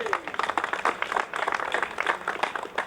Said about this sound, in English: Let's have another round of applause for the Black Diamonds.